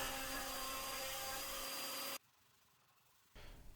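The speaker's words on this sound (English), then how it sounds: "After the first pass, I just raise the bit and send it through again." A router bit rounds over the outside edge of a wooden leg on a second pass, giving a loud, steady high-pitched whine with a hard cutting roar for about two seconds before it cuts off, then faint room noise and a soft rise at the end.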